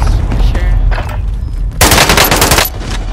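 Sustained gunfire in Call of Duty: Modern Warfare, with loud rapid automatic bursts of close shots that rise sharply in one dense volley and sit over steady game noise.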